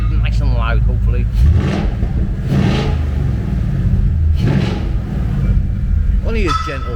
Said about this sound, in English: Give it a rev, now against the walls, nice and loud hopefully.